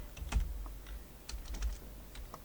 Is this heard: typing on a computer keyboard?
yes